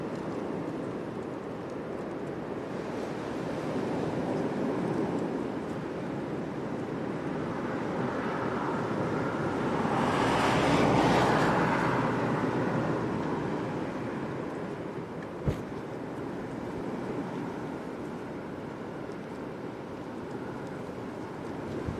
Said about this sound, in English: Hard to show you what the wind's actually like, guys, unless you actually hear it